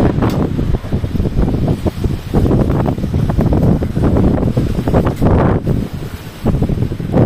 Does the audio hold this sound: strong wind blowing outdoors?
yes